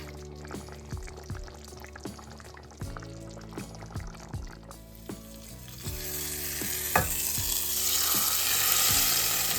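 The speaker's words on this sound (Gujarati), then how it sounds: "હવે આને હું ઉપરથી લસણવાળી ચટણીનો વઘાર કરીશ એટલે આપણું ગાંઠિયાનું શાક રેડી" Hot garlic chutney tempering is poured over gathiya curry in a pan: a few knocks and clinks give way to a sudden splash and a loud, swelling sizzle that keeps hissing to the end.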